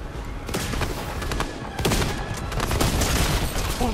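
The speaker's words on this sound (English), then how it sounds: "Somebody already shooting at Emma, I believe" Rapid gunfire in a shooting video game, dense overlapping bursts of shots sustained throughout at a loud, steady level with no speech.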